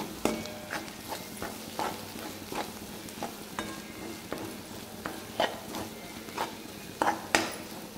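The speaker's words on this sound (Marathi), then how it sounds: "ही छान हलवून घेतल्यानंतर कांदा याच्यामध्ये छान मिक्स करून घेते." Onion chutney is stirred steadily in a pan, a spoon clinking and scraping in a quick, regular rhythm over a soft sizzle, close up and with no talking.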